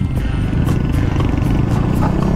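A Yamaha Mio i 125 scooter with an aftermarket exhaust riding through traffic, giving a loud, steady, crisp engine and exhaust drone close by that holds for a couple of seconds.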